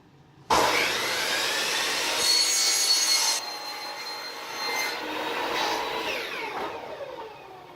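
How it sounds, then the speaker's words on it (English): A power miter saw cuts a miter through crown moulding held flat against a fence. A sharp onset brings a loud, steady whine that eases into a lower, fading rundown, with no talking. "I'm going to come down and make my miter"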